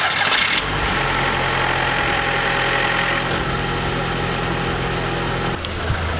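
An Audi TT Mk1 Quattro Sport engine cranks and fires, then settles into a steady, close idle with a low rumbling hum before cutting off near the end, with no voices.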